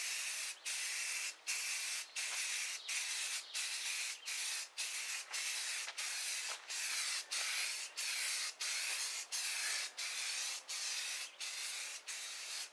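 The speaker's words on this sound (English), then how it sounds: "You want enough primer that it coats it so that it can bite in and the final paint can actually stick." Gray primer sprayed from a can onto an electric guitar body being refinished, in short hissing bursts repeated at an even pace, about a dozen and a half in all, close and fairly quiet, with brief gaps between them.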